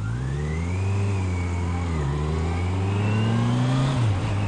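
A motorcycle engine revs up through the gears, its pitch climbing steadily, dipping sharply at each shift and rising again, heard close and fairly loud with no talk over it.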